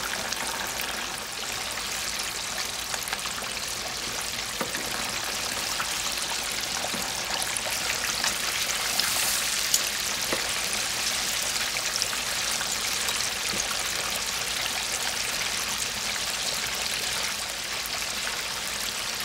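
A whole flounder sizzles in hot oil indoors, a dense, steady crackling hiss with scattered pops running evenly for about twenty seconds, close and without talk.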